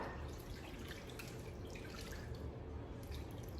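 Liquid poured over pulled pork and a layer of onions makes a faint, close, continuous trickle with soft splashing throughout, and no talking.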